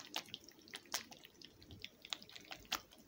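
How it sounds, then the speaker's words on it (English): Water in a slowly draining sink makes faint, irregular drips and small wet plinks, a dozen or so soft taps spread over a few seconds in a quiet room. "there's a lot of water in there and it's not draining very well."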